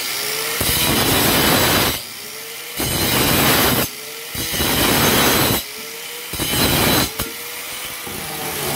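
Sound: sawing a bathtub drain pipe to size

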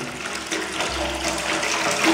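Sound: water being added to a bucket of acid

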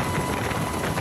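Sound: fire-fighting helicopter flying while dropping water

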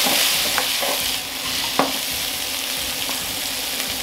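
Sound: spring onions frying in oil in a wok

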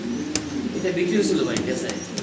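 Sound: fancy pigeons cooing

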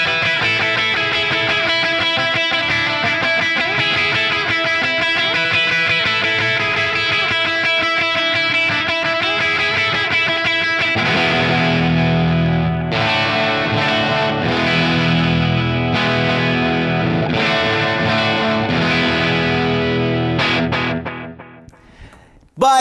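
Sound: electric guitar with Tone Specific 1971 Punch Telecaster pickups

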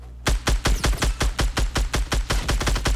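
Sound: gunfire in Fortnite Battle Royale video game

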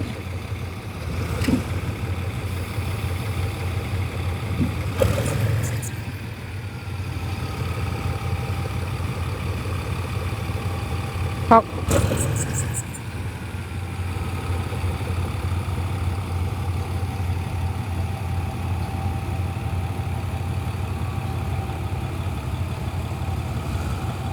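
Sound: GE 4015 diesel locomotive engine idling outside Bangkok station depot

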